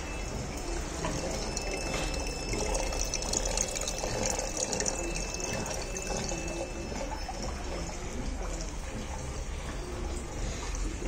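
Water flows steadily through a hydroponic farming setup, a continuous splashing trickle that holds at the same level for the whole stretch, with a faint electronic whine in the background.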